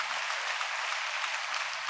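A church congregation claps during a sermon at Emmanuel Ministries Hyderabad: a faint, steady wash of many hands, evenly sustained for about two seconds without a break.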